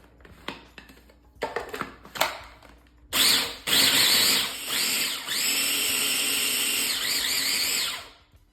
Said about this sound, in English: and we're just gonna grind this down a little bit.